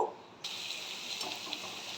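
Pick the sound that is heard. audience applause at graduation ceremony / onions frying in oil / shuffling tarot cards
onions frying in oil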